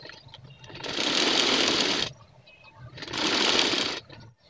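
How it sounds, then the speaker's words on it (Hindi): Sewing machine stitching a trouser belt: two loud, fast whirring bursts of stitching, each about a second long, split by a short pause with faint handling noise, close by and with no talking. "बेल्ट को मैंने सिलाई लगा ली है।"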